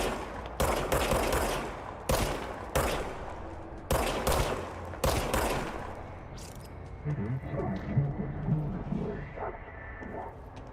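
Loud bursts of gun fire from the video game Control come in several separate volleys of a second or so each, followed by quieter game ambience with a voice talking over it.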